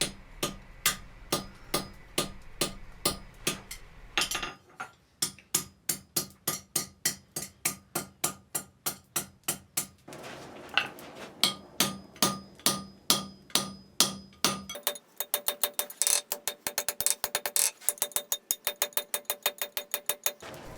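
A hammer strikes hot steel on an anvil while a blacksmith upsets the end of a bar, giving a long run of sharp, evenly spaced ringing blows, close and loud, with short pauses between sets.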